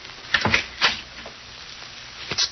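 A door opening in a vintage thriller and mystery radio drama, heard as a few short clicks and creaks of latch and hinge close by, followed by quiet room tone.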